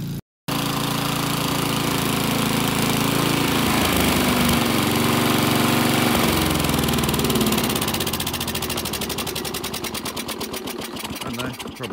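A small Briggs and Stratton lawn mower engine runs continuously with a rapid, rattling putter after a brief start, steady and close throughout.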